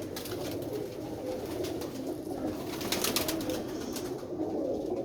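Pigeons coo steadily at close range over a dense, constant background hiss and rumble, with no talking.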